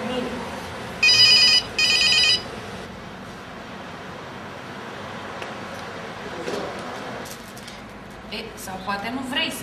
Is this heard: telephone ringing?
yes